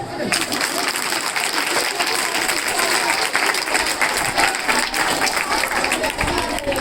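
Sustained, dense clapping from a large audience at an NSS camp gathering, loud and even throughout with a steady crackling texture and no pause.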